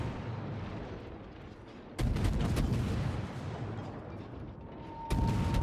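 Naval gunfire from the destroyer USS Black in the World of Warships video game, two loud booming salvos that ring out and decay over a rumbling battle background.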